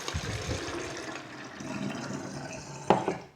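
Water poured into a bottle while mixing a homemade cleaning liquid with dish soap, a gurgling, splashing stream that runs steadily before a brief knock of the bottle near the end.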